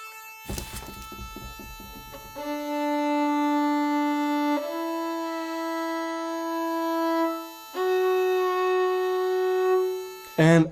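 A violin holds long, sustained bowed notes against a steady reference A, shifting pitch a few times, with a brief scratchy attack at the start; the tones are rich and close, with no talk.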